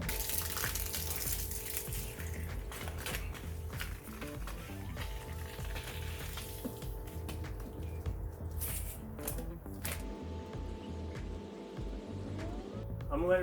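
Water runs steadily while the heater core coolant is flushed on a 1989 Chevy truck, a continuous splashing hiss with occasional small clanks nearby.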